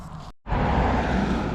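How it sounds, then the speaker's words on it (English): Steady road traffic noise hums from nearby roads at a relic dig site, a broad continuous rumble that cuts out briefly and then returns at a constant level. "Got a lot of traffic noise here."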